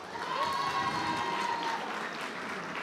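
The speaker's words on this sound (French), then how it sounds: "Tonnerre d'applaudissements." An audience at a Bazadais-Charolais cattle show ring breaks into steady, dense applause that holds evenly throughout, with a sustained tone running through the first half.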